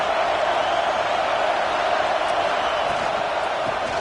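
A stadium crowd roars at a Alabama football game, a dense, steady wall of noise held loud and unbroken throughout with no clear breaks.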